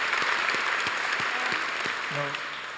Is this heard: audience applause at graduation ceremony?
yes